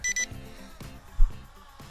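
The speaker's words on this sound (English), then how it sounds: "Now it's gonna keep beeping at me that the battery's low." Low-battery warning beeps from a small brushless F199 gimbal drone with optical flow, two short bright beeps at the start, then a quiet outdoor background with a soft thump.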